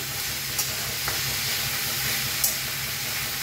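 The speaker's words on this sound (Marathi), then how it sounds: "आता बघा 1 मिनिटभर असा कोबीज भाजून घेतलाय।" Shredded cabbage stir-fries in a hot pan, a loud, unbroken hiss of sizzling and steam with a few faint scrapes.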